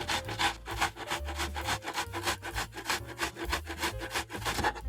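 An onion is grated on the large holes of a kitchen grater in quick, steady back-and-forth rasping strokes, close and fairly quiet, with no voices.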